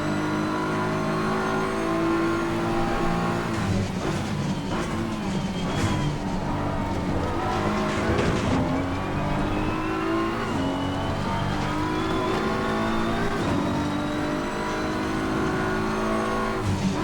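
BMW M4 race cars at Zolder in Assetto Corsa Competizione roar close and continuously, with the engine note climbing and dropping through gear changes as other cars pass nearby.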